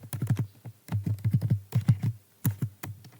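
Fingers type on a computer keyboard in quick bursts of close, crisp keystrokes, with short pauses between clusters of clicks and no voices.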